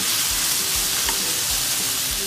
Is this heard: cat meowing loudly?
no